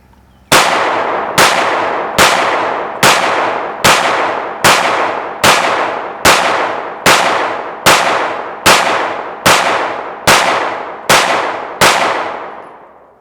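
A Glock 19 Gen4 pistol fires Winchester white box 9mm 115-grain rounds in fourteen loud, sharp shots at a steady, evenly spaced pace, each with a short ringing decay.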